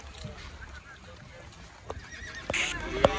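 A six-year-old gelding horse at a livestock market whinnies and neighs, with hoof clip-clops and people talking nearby; a sharp louder call rises near the end over the background chatter.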